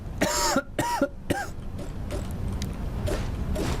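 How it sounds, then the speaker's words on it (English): Three harsh coughs in quick succession, close and loud, followed by quieter background noise and faint shuffling. "So shocked about it all, I'm coughing to death."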